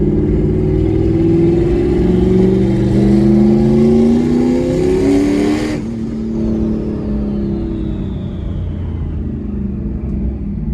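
A big-turbo Ford Coyote V8 Mustang accelerates hard on the street, its loud rising engine roar climbing through the revs, cutting off abruptly at a shift, then carrying on as a lower steady drone.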